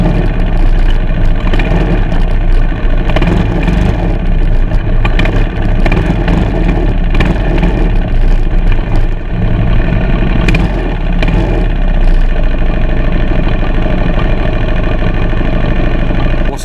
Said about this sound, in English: as you can hear, oh no, my exhaust sounds different